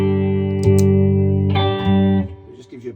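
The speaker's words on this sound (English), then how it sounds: "Gives you a boosting kind of harmonic distortion." Electric guitar played through an EP booster pedal, giving a boosted, harmonically distorted tone: sustained chords ring out loud and close, then a fresh strum and a short run of notes decay near the end.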